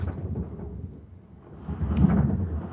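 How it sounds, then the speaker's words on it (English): Strong wind gusts roaring outside, a low rumbling buffeting that eases off and then surges louder again, heavy enough to be mistaken for thunder. "Do you hear that wind?"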